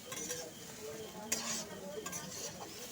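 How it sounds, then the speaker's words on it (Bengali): Papaya, potato and mung dal being stir-fried with spices in a pan, a soft steady sizzle with intermittent scraping and clinks of a spoon against the pot, quiet and close. "সমস্ত মশলা আর পেঁপে আলু আর ডালটার সঙ্গে একটু পাঁচ মিনিট মতন কষিয়ে নিচ্ছি"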